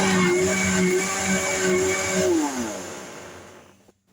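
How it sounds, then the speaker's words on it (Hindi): A blender grinds cream into butter with a loud, steady motor whine that holds, dips slightly in pitch, then winds down and stops near the end. "ग्राइंड करेंगे और मक्खन निकलेगा। अब हम इसको ग्राइंड करेंगे।"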